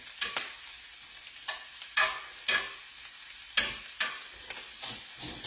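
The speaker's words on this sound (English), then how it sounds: "Now, I turn this on a very high heat on purpose. Okay? So that you can hear the mass sizzles that take place during that time." Garlic and onions fry in a pan over very high heat, a steady close sizzle punctuated by repeated sharp scraping stirs at irregular intervals.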